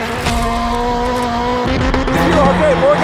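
Travis Pastrana's 862bhp Subaru Gymkhana car on Yokohama tyres drifts with a loud, continuous tire squeal and a steady, high-revving engine whine, with pitch rising and wavering toward the end.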